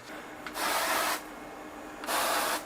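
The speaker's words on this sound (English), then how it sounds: "I'm gonna spray this with avocado oil over the sink" Two short bursts of avocado oil spray hissing from a can over a sink close by, the first about half a second long, the second briefer, with quiet gaps between.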